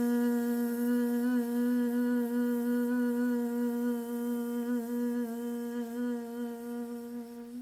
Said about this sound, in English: You can take a big inhale, like bee breath, and then make a zzz sound.